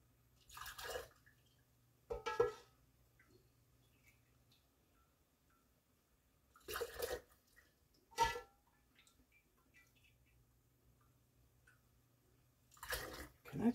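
Cowboy candy juices are poured into canning jars in several short, quiet splashing bursts separated by long stretches of near silence.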